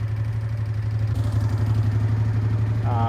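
A Honda Deauville NT650V motorcycle engine idles close by with a steady, deep, even hum, only slightly uneven, and a brief higher tone near the end.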